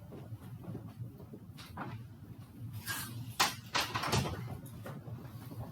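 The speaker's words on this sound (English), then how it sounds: "let me close the door" A classroom door swings shut during a general chemistry lecture, a few soft knocks and a latch thud standing out from the low room hum, with no talk over it.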